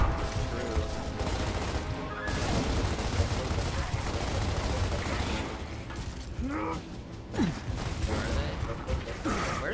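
Rapid bursts of gunfire and mechanical clanks come from a Gears of War firefight, dense and continuous under game effects, with scattered metallic creaks.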